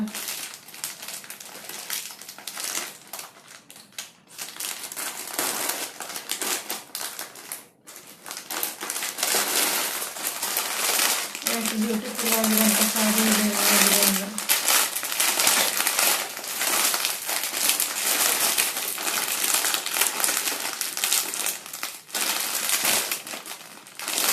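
A Meesho parcel holding a saree being torn open, its plastic packaging crinkling and crushing loudly and continuously at close range, with some talk over it.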